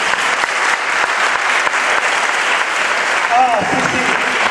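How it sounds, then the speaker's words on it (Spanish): An audience at a parish talk on philosophy with children gives a big round of applause, loud dense clapping throughout with a few voices rising over it toward the end. "Un aplauso muy grande para todos."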